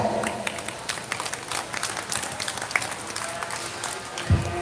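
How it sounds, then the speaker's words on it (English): Spectators at a 4-H/FFA beef show at a county fair clap for the young exhibitors, a loose scattering of hands in a large open space with a brief low thump near the end. "It's good to give all those young people a big round of applause."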